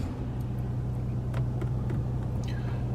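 A Chevy Suburban on the move, heard as a steady low engine and road drone from inside the cabin, with a few faint clicks and no talking.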